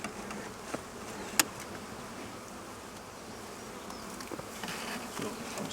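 Bees swarm around an opened beehive, a dense continuous buzzing hum with a few sharp knocks and faint handling noises, no speech.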